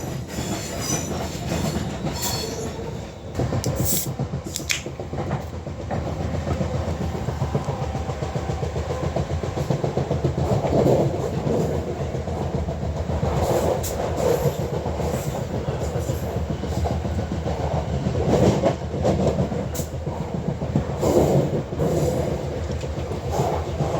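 A ScotRail train runs on the rails near Paisley, its loud, steady rumble carrying rhythmic clickety-clack and occasional squeals of the wheels throughout.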